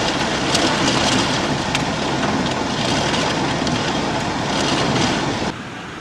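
A hailstorm in the Munich area of southern Bavaria pelts down as a loud, dense, unbroken roar of ice striking surfaces, easing slightly just before the end.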